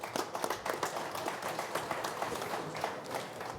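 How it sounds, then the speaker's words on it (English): Applause at a boxing press conference follows a fighter's performance: a steady crowd clapping fills the room with dense, continuous patter at moderate volume, no voices standing out. "a round of applause, I think, for John Ryder for that performance tonight"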